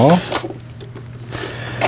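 A Singer 1116 home sewing machine under repair runs in short mechanical bursts with clicking, set against background talk and a steady low hum.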